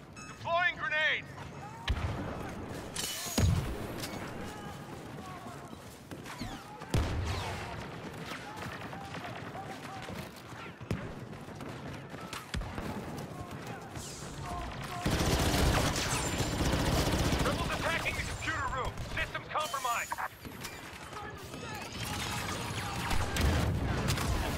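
Shotgun blasts and other gunfire crack through a Star Wars Battlefront 2 firefight, loud irregular bursts and booms scattered across dense battle noise, with a player talking over the action.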